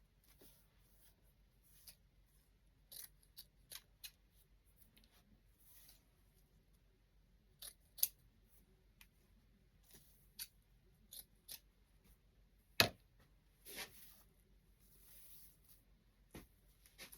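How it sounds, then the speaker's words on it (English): Scissors snip ribbon tails at an angle for a winter wreath, giving faint, scattered short cuts and small rustles at close range in a quiet room. "let's cut our ribbon tails a little bit."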